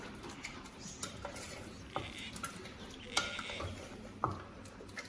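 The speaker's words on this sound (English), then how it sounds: "So just keep stirring like that." Scrambled eggs with smoked salmon are stirred in a single pot, a soft scraping with sharp clinks of the utensil against the metal every second or so, quiet and close.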